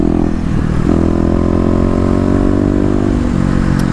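Kawasaki KLX250 dual-sport motorcycle engine under way on a street ride, a steady loud thrumming drone with shifting harmonic tone as the throttle eases and picks up, close and continuous, no talk.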